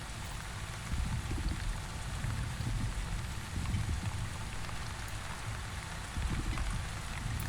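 Rain in the video game The Wandering Village falls as a steady, dense patter with soft low rumbling swells, continuous and fairly close, with no talk.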